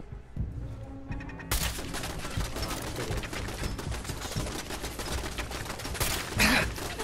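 Rapid automatic turret fire and rifle shots ring out in Fallout 4 combat, a near-continuous loud fusillade of overlapping gunfire lasting several seconds, with no talk over it.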